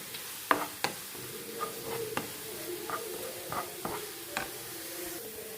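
Vegetables sautéing in a pan with turmeric powder added, a soft steady sizzle broken by sharp scrapes and taps of a spoon against the pan, close and with no voices.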